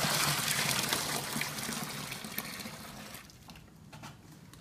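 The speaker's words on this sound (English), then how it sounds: "Now we need to add the water" Water poured into bran for tanning a deer hide, a steady close splashing pour that fades toward a softer trickle near the end.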